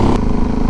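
Suzuki DRZ400SM supermoto, a 400 cc single making 40 hp, running in fifth gear at about 100 km/h, a steady loud engine drone heard close up under rushing wind.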